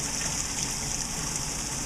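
A spinning vortex of water swirls with a steady, dense rushing hiss that stays continuous and close throughout, with no voices.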